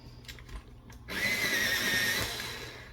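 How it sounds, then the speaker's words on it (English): A scarlet colored pencil with a cracked tip is ground in a pencil sharpener: after a second of faint handling noises, a steady whirring grind starts and runs on, close and fairly loud, fading slightly near the end. "It actually has a cracked tip, so I am going to sharpen it."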